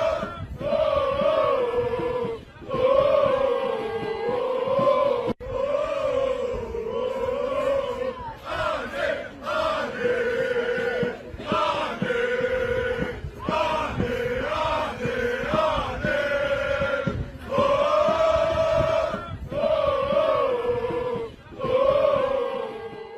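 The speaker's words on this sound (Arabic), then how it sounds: "يا استاذ ماجد الفيديو الجماهير المغربيه ومساندتها لجماهير النادي الاهلي" Moroccan football fans in a stadium chant in unison in support of Al Ahly, a huge crowd singing rhythmic, repeated phrases that swell and fall, loud and sustained.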